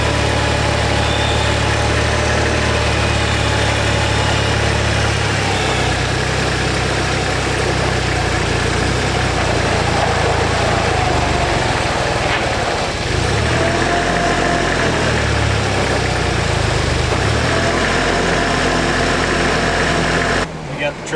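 Pickup truck loaded with about 22 hay bales idles steadily, a low rumbling engine drone running continuously and close, with some voices faintly underneath.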